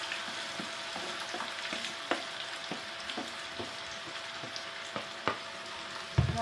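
Food, likely potatoes, fries in hot oil with a steady broadband sizzle, broken by scattered soft clicks and utensil taps, one louder knock near the end.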